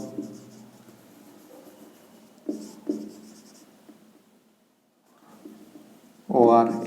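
Pen strokes on paper as a probability formula is written by hand, with faint scratchy marks and taps beneath someone talking, a brief quiet gap, then louder speech at the end.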